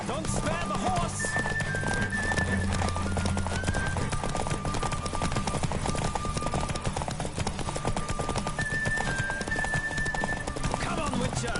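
A horse gallops in The Witcher 3 with rapid, continuous hoofbeats, and a high neigh comes twice over the run. Game speech and music play underneath.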